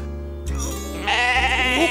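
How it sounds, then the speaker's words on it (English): A lost sheep stuck in mud bleats in a cartoon seaside episode, giving a wavering, drawn-out cry over a steady low musical bed. "Look, Jess, that must be Alf's lost sheep. Meow. The poor thing's stuck in the mud."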